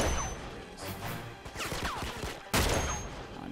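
Gunfire from a sniper rifle in Uncharted 2: Among Thieves, with sharp loud cracks and a burst of rapid shots amid crashing impacts, a heavy blast near the end, no talking.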